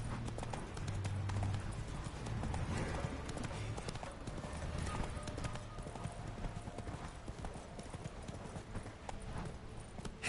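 Geralt's horse Roach from The Witcher 3: Wild Hunt gallops in a fast, continuous clip-clop of hooves under a bed of ambient game sound, with brief speech.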